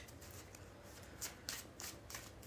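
Tarot cards shuffled by hand in a few brief riffling bursts, faint and close, with a low steady room hum beneath and no talking.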